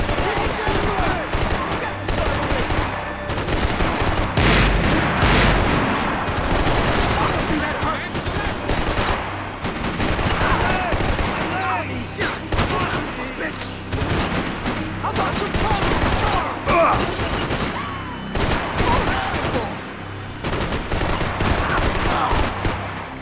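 Dense, loud gunfire from Max Payne 3, sustained bursts of automatic weapons and rapid shots during a firefight in a Brazilian favela, with shouted voices mixed into the barrage.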